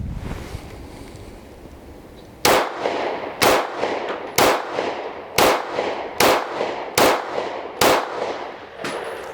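Smith & Wesson CSX alloy-frame micro compact 9mm pistol fires eight sharp, loud shots outdoors at an even, deliberate pace, each crack followed by a short echo, with wind noise in the background.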